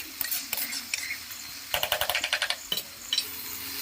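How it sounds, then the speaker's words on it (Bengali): Mushroom curry is stirred in a cooking pot: soft scrapes and taps at first, then a quick run of rhythmic strokes and a few more clinks, quiet and close with no voices. "এই দেখো তো নেড়ে দিচ্ছি এইভাবে"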